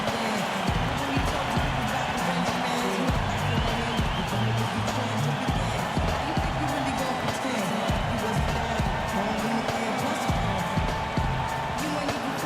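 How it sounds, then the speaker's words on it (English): Virtual arena crowd in the basketball game NBA 2K15 cheering and roaring steadily throughout after a tying basket late in the fourth quarter, a dense, continuous din with commentary-like talk mixed in. "That's how you get the crowd on its feet."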